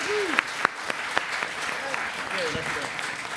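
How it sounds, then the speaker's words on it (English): Applause from a crowd at a Star Wars: The Force Awakens press conference, steady clapping with voices speaking over it throughout. "Could you give them a big round of applause as they make their way?"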